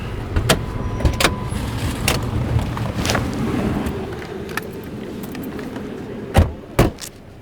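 Police car pulling up and slowing to a stop, a low engine rumble with scattered clicks and knocks, then a couple of louder thumps near the end like doors or equipment, no talk.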